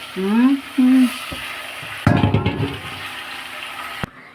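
Chicken fry (varuval) stirred in a pan for a gravy dish sizzles and scrapes loudly in the second half, after a couple of brief voiced tones at the start.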